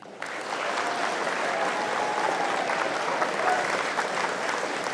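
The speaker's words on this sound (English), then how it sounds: "How about a round of applause for DFAC?" A military awards ceremony audience applauds the dining facility staff, a dense, steady round of clapping that swells after a brief start and holds at full strength with a murmur of voices underneath.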